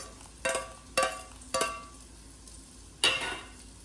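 Raisins and cashews drop into a pan of vermicelli kheer, a few sharp clinks and stirring scrapes at close range, four distinct hits spaced apart over a quiet background.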